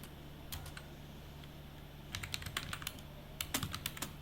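Keys clatter on a computer keyboard during a Java programming session, with sparse taps early on, then quick irregular bursts of typing, close and fairly quiet over a steady low hum.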